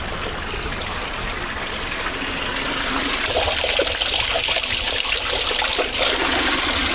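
Spring water running down from the mountain flows along a street in Lebanon, a steady close rushing trickle that grows louder and fuller halfway through.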